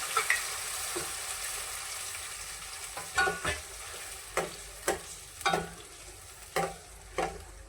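A faint, steady sizzle of ground masala paste frying in oil with cardamom, bay leaf and coriander, punctuated by several spaced scraping stirs, with no one talking.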